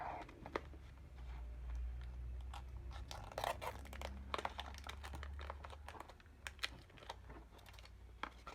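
Tape peels back from a page in a shabby mini journal with soft crackling and tearing sounds, close and quiet, scattered in small bursts over faint room noise.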